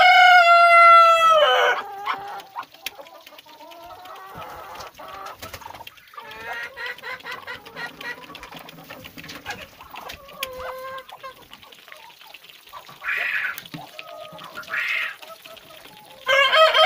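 Roosters crow and hens cluck in a barn holding muscovy ducks and drakes, with loud crowing calls at the start and end and intermittent clucks and bird calls in between, close by.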